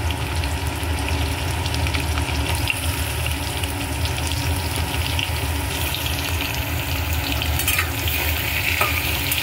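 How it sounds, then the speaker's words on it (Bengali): Sweet potato pieces fry in hot oil with a dense, steady, loud sizzle that runs unbroken throughout, close by, with faint occasional stirring and no talking. "একটু ভেজে নেবো রাঙা আলুগুলো।"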